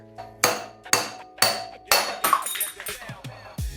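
A race puller drawing out the bottom steering head bearing race on a Harley-Davidson, giving a series of sharp metallic knocks roughly every half second, then a cluster of clinks and scraping near the end.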